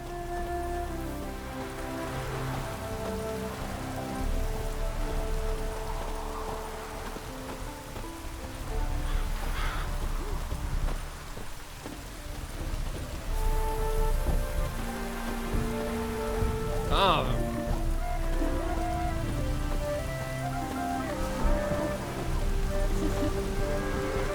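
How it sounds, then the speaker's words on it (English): Steady rain pattering on surfaces in The Witcher 3, a dense continuous hiss of drops under soft musical tones, with no talking. "Looks like rain."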